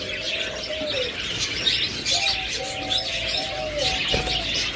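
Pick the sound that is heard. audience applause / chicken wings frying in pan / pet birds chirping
pet birds chirping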